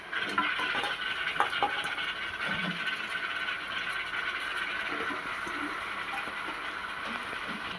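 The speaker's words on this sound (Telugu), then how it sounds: "చూడండి ఫ్రెండ్స్, వేస్తున్నాను తలకాయ." Pieces of goat head for a Telangana-style curry cook in a pot with a soft sizzle, while a spoon scrapes and clinks against the metal now and then. The sound is fairly quiet and close, with no speech.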